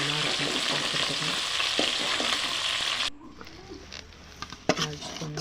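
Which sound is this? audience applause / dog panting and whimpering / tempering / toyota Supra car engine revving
tempering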